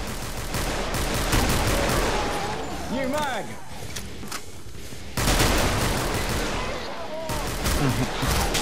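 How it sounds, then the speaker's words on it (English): In the co-op shooter Killing Floor, a grenade launcher fires amid a chaotic firefight. Explosive bursts and rapid gunfire overlap, with sharp cutoffs as the action shifts, and players talk over the combat. "Someone behind me with a grenade launcher just clearing the place out."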